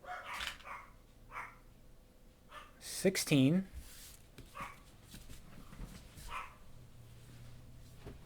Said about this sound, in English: My dogs are still barking